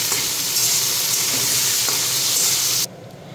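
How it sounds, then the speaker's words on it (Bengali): Eggplant frying with turmeric powder in hot oil, a loud, dense, continuous sizzle heard up close that stops suddenly near the end. "হলুদ গুঁড়ো দিয়ে বেগুনটাও আমি ভেজে নেব।"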